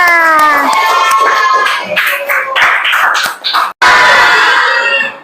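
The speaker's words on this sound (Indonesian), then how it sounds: "tepuk tangan untuk semuanya" A crowd of schoolchildren claps and cheers loudly together at a school counselling session, with excited shouts mixed into the applause before a brief pause.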